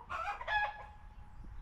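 Farm rooster crowing once, a raspy call with a drawn-out tail that fades, fairly close and alone over soft ambient noise.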